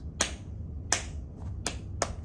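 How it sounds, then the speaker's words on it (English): Four crisp finger snaps in an uneven rhythm during a classroom music lesson, close and fairly quiet over a low background hum. "Snaps."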